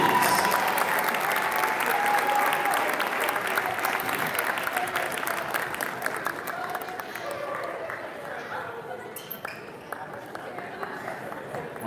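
Sustained applause from a large crowd at a girls' high school basketball game, honoring the youth teams, steady and loud at first, then slowly thinning out.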